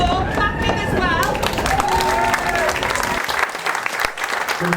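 Crowd at a live band music event breaking into loud, dense applause and cheering, with a sung or spoken voice over the start and voices under the clapping before it thins out toward the end.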